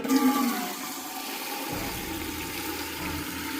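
Water running from a hose pipe at a buffalo stable during the milking routine, a steady rushing flow heard close and alone, with no talk.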